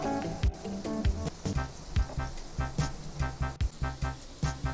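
Bread bonda sizzling in hot oil just after being turned over, a steady crackling frying sound with repeated sharp spits and pops, close and fairly loud, with no talking.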